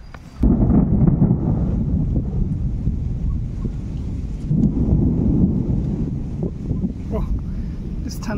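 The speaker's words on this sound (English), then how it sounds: "Oh, it's thunder." Thunder rumbles during a rainstorm at a fishing spot, a loud, deep sustained roll with heavy wind buffeting the microphone and rain noise underneath.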